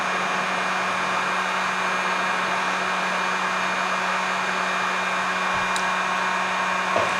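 A heat gun blows with a steady, even whoosh and hum close by while drying paint on a Goby-style fishing jig, with a faint click near the end.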